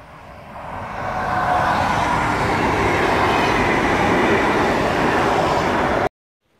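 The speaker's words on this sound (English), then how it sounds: "we're just next to the train tracks" A train rolls past on the tracks in Norway, building quickly to a loud, steady rumble and rattle of wagons before cutting off abruptly.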